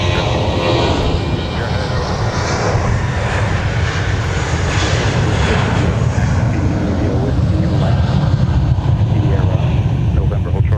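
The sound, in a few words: United Airbus A320 departing runway 12 right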